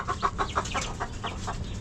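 Hens cluck in a quick series of short, nasal calls, fairly close against a busy outdoor construction-site background.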